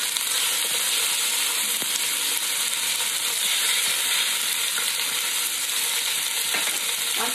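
Beef dropped into spices frying in a pan: a loud, steady, close sizzle and crackle fills the whole stretch, with occasional small clinks and scrapes of stirring and no talking.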